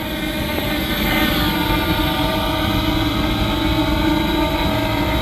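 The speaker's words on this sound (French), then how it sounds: "Voilà, on le laisse atterrir." A Fimi Mini 3 SE drone touching down: a steady, close propeller whine and motor hum holds throughout, broad and unbroken, with no voices.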